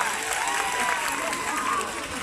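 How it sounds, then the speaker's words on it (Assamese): An audience at a Bihu function applauds with steady, dense clapping and crowd noise that carries on throughout, with voices mixed in. "হাত চাপৰিটো কিবা এটা কমি আছে এনাৰ্জিটো ক'ৰবাত কমি আছে"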